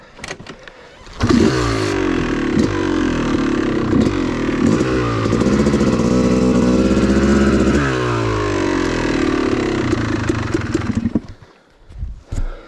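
A Yamaha YZ dirt bike is ridden along a wooded OHV trail, its engine revving hard and close with rising and falling pitch through gear changes, a loud sustained buzz before easing off and dying away at the end.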